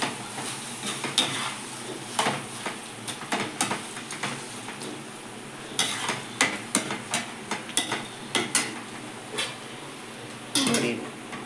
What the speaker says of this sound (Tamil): நல்லா ஒரு அஞ்சு நிமிஷம் எண்ணெயில் வதக்கி ஆகும்